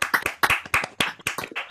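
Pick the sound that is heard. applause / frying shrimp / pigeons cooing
applause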